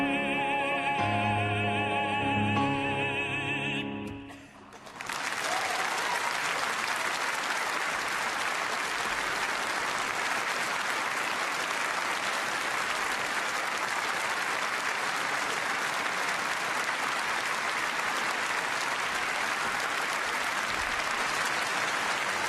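Sustained, dense audience applause fills a hall at the Nobel Peace Prize award ceremony, starting abruptly after a sung passage ends and continuing steadily and loudly for a long stretch.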